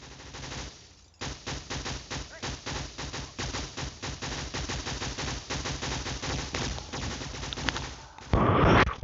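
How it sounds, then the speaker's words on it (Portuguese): Rapid bursts of Minecraft gunfire crackle almost nonstop, dense and loud, ending with a heavier blast near the end. "tá acontecendo uma série de tiro ali"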